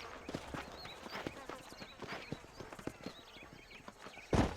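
Horse hooves clip-clop in Red Dead Redemption, the game's herd of fine horses near Armadillo, with irregular close thuds, faint whinny-like chirps and a louder hit near the end, under a voice.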